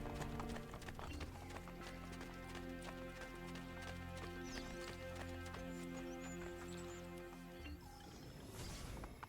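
Horse hooves clip-clopping in Assassin's Creed Brotherhood, a steady rhythmic trot heard up close over a dense game soundtrack and ambient mechanical noise.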